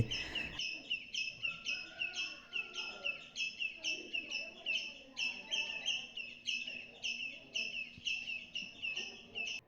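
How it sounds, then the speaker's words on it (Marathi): Several birds chirp and whistle at dawn in quick repeating phrases, layered and fairly close, with a quiet rustling background and no talking. "मला इतके सुंदर पक्ष्यांचे आवाज ऐकायला मिळाले"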